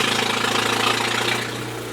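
A Mazda car engine running through a loud muffler, a deep rumbling idle with a throbbing low pulse and a raspy exhaust tone, close and steady, dropping slightly in level toward the end.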